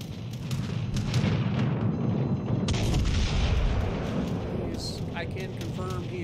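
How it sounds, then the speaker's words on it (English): Battleship Musashi's big guns fire in a World of Warships Legends naval battle, heavy booming salvos and rumbling blasts over a steady roar of sea and engine noise, with a voice talking over it. "Musashi shoots me"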